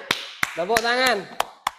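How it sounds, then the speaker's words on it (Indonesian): A school class claps six sharp, evenly spaced beats in a rhythmic pattern, with a voice sounding between the middle claps. "Tepuk tangan"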